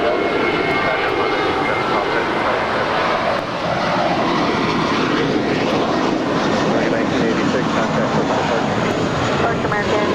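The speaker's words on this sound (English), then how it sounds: "We got the Emirates A380 now making her way." An Emirates Airbus A380 airliner taxis at LAX airport, its engines giving a steady, loud broadband roar that holds throughout, with faint voices partly under it.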